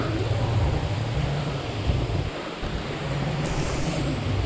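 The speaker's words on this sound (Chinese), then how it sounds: "左边是道瀑布，瀑布的水全都往这个洞里面流出去了" A waterfall pours into a cave at the bottom of the Smile sinkhole, making a loud, steady, close broadband roar of rushing water that holds without a break, with no voices.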